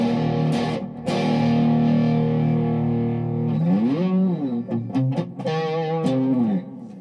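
Electric guitar played through a Tubetown PX18 tube amp with the bright channel's gain maxed and reverb left on, giving a loud, sustained distorted tone with held chords and shifting bends, alone.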